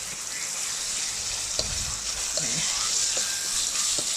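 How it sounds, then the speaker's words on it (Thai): Squid stir-fried in a hot pan with aromatic vegetables for a basil-squid dish, sizzling steadily throughout with several short scraping knocks as a spatula tosses the pieces around. "นี่ปลาหมึกที่เตรียมไว้แล้วล่างสะอาดแล้ว เอาลงมาผัด"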